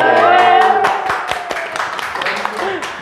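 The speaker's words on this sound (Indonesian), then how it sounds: "Wih, tepuk tangan dong." A small crowd claps at a street-children's community gathering in Balikpapan, a brief burst of sharp, scattered hand claps heard close by, mixed with talking and chatter.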